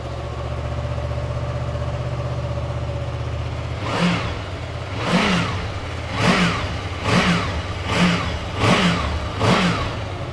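A 2015 Honda VFR800 ABS motorcycle idles steadily up close, then is revved in six quick, evenly spaced throttle blips that rise and fall back to idle.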